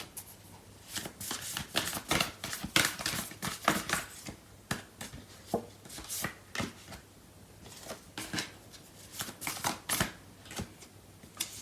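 Tarot cards are shuffled in a love reading, giving close, crisp riffling and snapping flicks in rapid clusters with brief pauses between them. The sound is steady and clear, with no voices over it.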